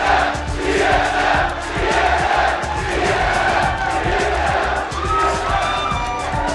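A large arena crowd at a PAX NA Regionals 2013 League of Legends semifinal roars and cheers after a match win, loud and sustained throughout, with shouts rising from the mass of voices.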